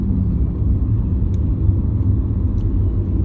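Low, steady rumble of idling and slow-moving cars held up in a line of traffic on a trip to Nikko, a continuous engine drone with no talk.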